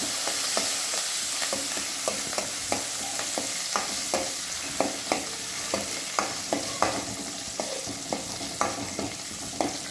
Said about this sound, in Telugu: ఇవన్నీ తాలింపు వేయింది. ఎల్లిపాయలు, ఎండుమిర్చి, కరివేపాకు.